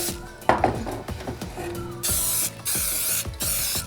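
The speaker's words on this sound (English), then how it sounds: "just going to spray coat it with some coconut oil" Coconut oil from a small aerosol can sprayed into a cake pan in a home kitchen, heard as two or three loud hissing bursts after some clattering of pans and utensils, with no talking.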